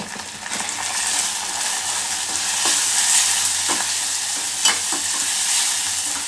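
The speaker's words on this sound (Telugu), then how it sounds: "ఈ అల్లం పేస్ట్ పచ్చివాసన పోయేంత వరకు వేయించుకొని ఇప్పుడు దీంట్లో కొంచెం పసుపు వేసుకుందాం" Ginger paste with a little turmeric frying in a pan for a red lentil curry, a steady close sizzle with occasional light spoon scrapes and taps.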